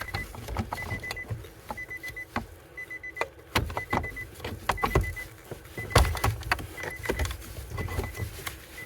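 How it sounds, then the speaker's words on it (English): A blower motor is pushed and worked into its housing in a Nissan Rogue, producing close irregular plastic knocks, scrapes and clicks of fitting parts without any talking. "I will insert the blower in place."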